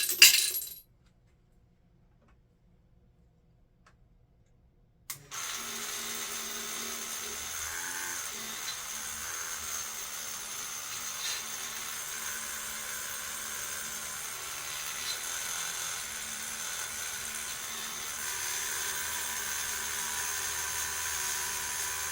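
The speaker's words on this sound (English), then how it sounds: "I'm going to drop a couple of casings in there just to see if they rattle" A Dillon powder measure vibrator with a couple of empty cartridge casings dropped in starts after a few seconds of near silence, then keeps up a low, steady mechanical buzz with faint rattles at close range.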